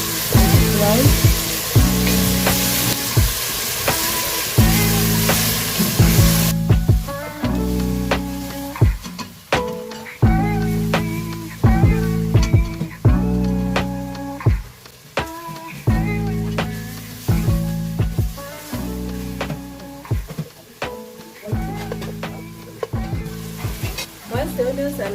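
Onions cook with crumbled stock cubes and salt in a hot pan, sizzling loudly while being stirred in repeated scraping strokes that make the frying swell and fade rhythmically, close up with no one talking.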